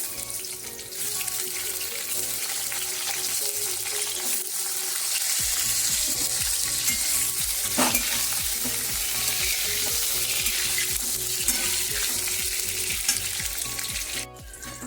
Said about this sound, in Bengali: এই বেগুনগুলোকে আমি একটু ভেজে নেবো।